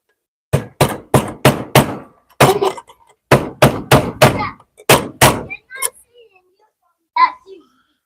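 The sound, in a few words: hammering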